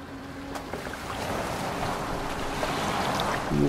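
A boat sailing on water in Assassin's Creed Valhalla, steady wash of waves and water against the hull with a low wind rush, a continuous moderate ambience.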